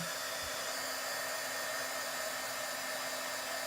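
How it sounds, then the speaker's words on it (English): A heat tool blows hot air over wet watercolor paint on a stamped card, giving a steady, even whoosh with a faint motor hum that runs alone the whole time without pause. "So we can heat this up with the heat tool."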